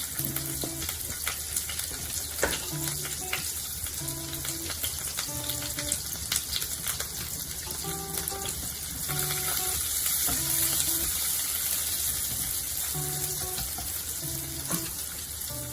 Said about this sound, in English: Once it's fried, I add green chilies split, onion,